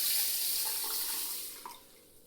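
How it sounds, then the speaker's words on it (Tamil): Water pours steadily into a bowl of soaked millets and rice, a continuous close splashing stream with no voices, easing slightly toward the end. "அடுத்து தேவையான அளவு தண்ணி ஊற்றிக்கலாம்."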